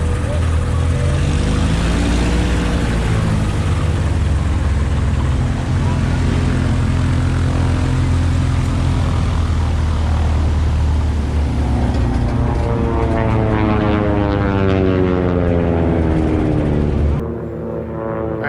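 Biplanes with propeller engines run at the Reno Air Races, a loud steady drone that holds for the whole stretch with a rising and falling pitch as aircraft pass nearby, then drops off abruptly at the end.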